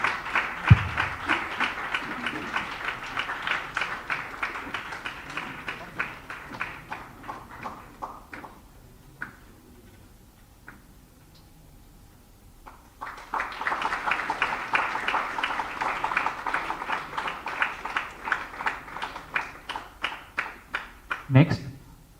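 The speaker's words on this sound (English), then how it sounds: "Big round of applause to all our key supporters, please." Audience applause at an annual dance academy event for free training of transgender people: two long stretches of dense, sustained clapping from a crowd, separated by a quieter gap where a voice speaks.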